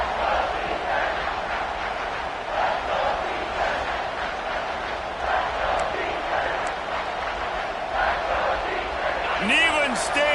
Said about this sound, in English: Neyland Stadium alive, a cauldron of orange noise on 3rd down